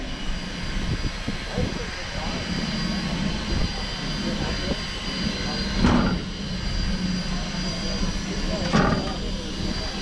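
Durango and Silverton steam locomotive 493 stands in Silverton, Colorado, giving a steady rumbling, pumping hiss with two sharp bursts of steam release, and people talk nearby.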